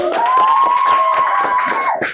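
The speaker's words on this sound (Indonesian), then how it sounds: "Tepuk tangan mantap iya. tepuk tangan." An audience claps and cheers together at a student event about university student-welfare advocacy, a dense burst of hand claps lasting about two seconds under a sustained whistle-like tone.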